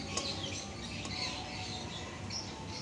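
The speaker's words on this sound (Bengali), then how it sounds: "বারান্দায় রান্না করছি, পাখির কিচিরমিচির ডাকের শব্দ।" Birds chirping near a veranda by the Turag river in Dhaka, several small calls and tweets scattered over a steady sizzling cooking background.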